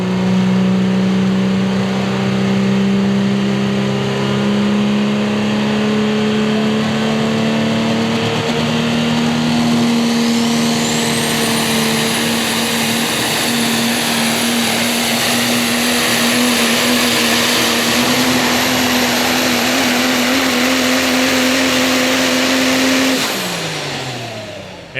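A super stock diesel pulling truck roars steadily down the track at a pro pulling event, its loud engine holding a sustained drone with rising high whine before cutting off near the end.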